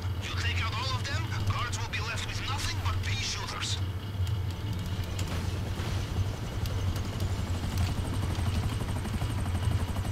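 A helicopter in GTA Online's Cayo Perico heist produces a continuous low rotor thrum and engine whine, steady and fairly close, with a voice speaking briefly over it near the start.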